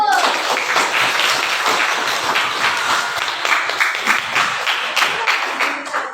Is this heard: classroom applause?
yes